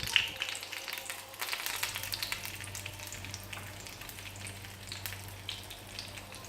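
Dried red chillies fry in hot oil for a chicken curry, a steady crackling sizzle with scattered pops and the faint scrape of stirring, close and continuous throughout.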